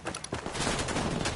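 Rapid bursts of automatic gunfire crackle loud and close in a Ghost Recon Wildlands firefight, several quick volleys overlapping with no pause across a brief moment.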